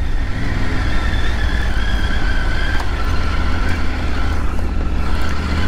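Triumph Tiger Rally Pro 900 motorcycle riding over wet, bumpy on- and off-road terrain, a steady loud engine drone mixed with heavy wind rush, continuous with no speech.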